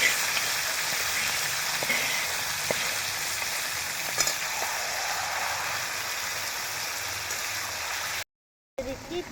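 Chopped onions, tomatoes and fried potatoes go into hot oil in a karahi for a mutton curry, giving a loud, steady frying hiss with a few stirring clicks, cut off briefly near the end.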